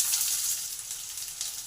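Chopped onion hits hot oil with fried nigella seeds and chilli in a pan, giving a steady, close hiss of sizzling throughout with no talking.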